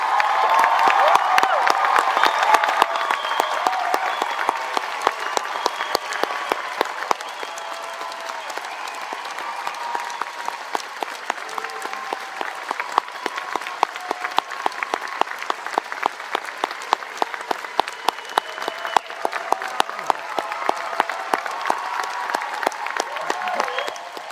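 A graduation audience at a Sheridan convocation for the Faculty of Animation, Arts & Design claps in sustained, dense applause from a large crowd, steady and loud throughout with a few faint cheers.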